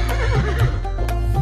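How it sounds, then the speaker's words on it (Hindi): A horse whinnies in short, bright bursts over a steady musical backing. "हिन हिन करता घोड़ा भागे"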